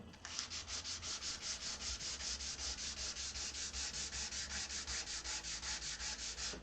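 Hand sanding wood with 240-grit sandpaper, a rapid even series of back-and-forth scratchy strokes, close and fairly quiet, with no voices.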